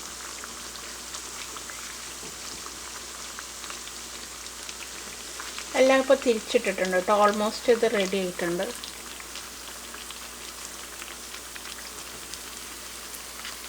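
Banana fritters (pazhampori) fry in hot oil with a steady, soft, rain-like sizzle that runs throughout, and someone speaks briefly in the middle.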